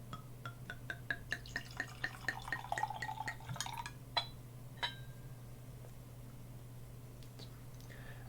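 Homemade blueberry mead is poured into a small whiskey glass, giving a quick run of liquid glugs and drips that rise in pitch, followed by a few sharp glass clinks in a quiet room.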